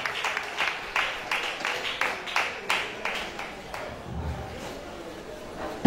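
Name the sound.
audience applause for the jury president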